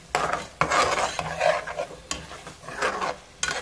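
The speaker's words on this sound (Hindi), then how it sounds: "तो थोड़ा सा मैं मिक्स कर लूँगी ज़रा सा और इसको दम पे दे दूँगी।" Spoon stirring chicken tomato salan in a pot, a close run of repeated scraping and clinking strokes with a soft sizzle underneath.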